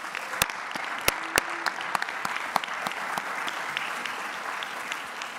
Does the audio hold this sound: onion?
no